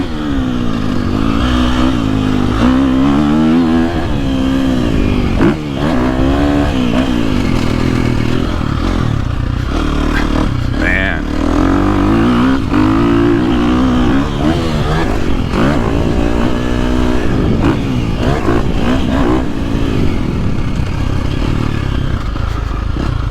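A 2023 KTM 350SXF dirt bike engine revving loudly and close, the pitch climbing and dropping repeatedly through gear changes with clattering mechanical noise.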